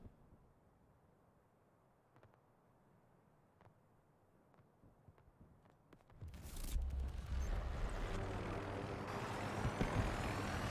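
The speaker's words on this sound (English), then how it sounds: "There's choppers in this." Helicopters in Battlefield 2042 gameplay: a quiet stretch with faint thuds and rumble, then a loud, broad roar of rotor and engine noise surges in and holds steady.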